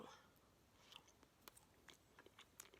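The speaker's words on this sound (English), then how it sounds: "I'm gonna be primarily chewing on this side of my mouth." Quiet, close chewing of a fish taco, soft crunches and wet bites scattered at an uneven pace, faint and alone with no talk.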